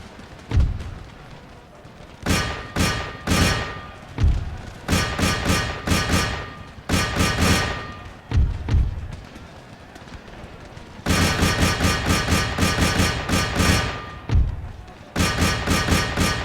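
Musket volleys in the Empire Total War video game, repeated loud crackling bursts of massed fire in rapid clusters, separated by short lulls with heavy thuds, continuing throughout.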